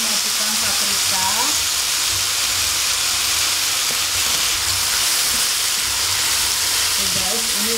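Tempeh and green beans stir-frying with bell pepper in a pan, giving a loud, steady, broadband sizzle throughout, with faint scraping from stirring now and then and no talk.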